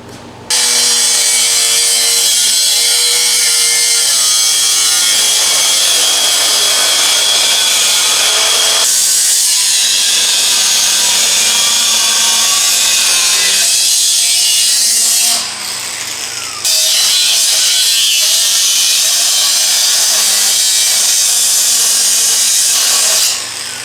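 A hole saw grinds steadily through metal tubing with a loud, close, continuous rasping drone, briefly stopping twice before cutting on and winding down at the end.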